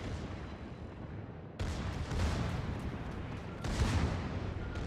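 Secondary guns of the battleship Georgia firing in World of Warships, heard as two loud, rumbling salvos that each kick in suddenly and roll on, with no talk.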